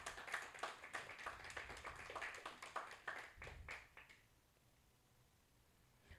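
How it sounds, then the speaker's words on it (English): Scattered clapping from a small audience at a poetry slam event, a few loose hands patting for about four seconds before thinning out into quiet room tone. "Another round of applause for Teresa."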